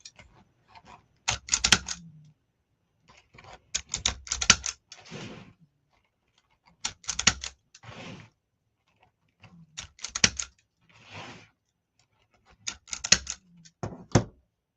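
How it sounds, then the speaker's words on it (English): Zip tie cutter tightening and snipping zip ties while a gingerbread wreath is assembled: repeated bursts of close ratcheting clicks followed by sharp snaps, in regular groups separated by short silences. "zip tie cutter so it tightens and cuts your zip ties all at once"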